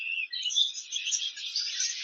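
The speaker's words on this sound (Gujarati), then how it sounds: "નાના નાના પોપટ છે" Small parrots in an aviary at a nature park chirp and twitter continuously, a bright, overlapping chatter of many birds at moderate volume.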